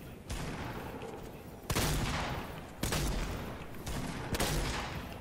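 Video game gunfire in a battle match: bursts of rapid shots with sharp onsets recurring roughly every second, loud and close, with a few heavier reports standing out.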